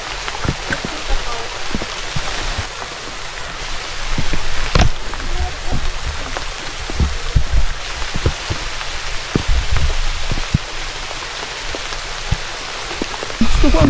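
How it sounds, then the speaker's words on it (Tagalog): Steady rain falls on a forested mountain trail at Mount Daraitan, a dense continuous patter with sharper drops striking close by, filling the whole stretch at an even, fairly loud level. "So guys, inabot na tayo ng ulan."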